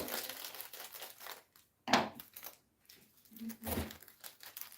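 Crinkling plastic packaging with a few sharp scissor snips and crunches, close by and fairly quiet, coming in short bursts separated by brief pauses.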